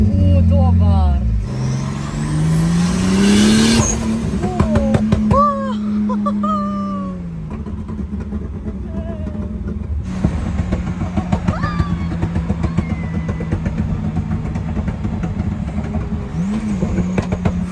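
A car engine revs and accelerates while driving, with rising pitch sweeps and gear changes, loud and close, under occasional talk inside the car.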